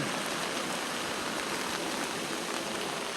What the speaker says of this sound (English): Coming down here to this drain, it's flowing in.